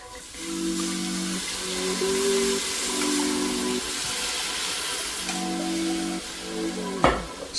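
Tomato paste and white wine being stirred into a pot of lobster bisque, a steady close sizzle and hiss of simmering liquid with spoon scraping and a sharp clink near the end.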